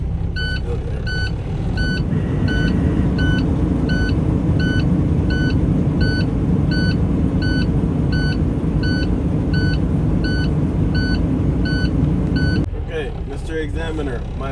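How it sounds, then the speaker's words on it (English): A combination truck's diesel engine runs steadily to build air brake pressure during a pre-trip inspection, a loud constant rumble with repeated electronic beeps pulsing over it throughout, cut off near the end by a voice. "let's build the air pressure."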